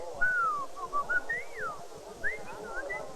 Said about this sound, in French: c'est le seul endroit au monde où on peut parler en sifflant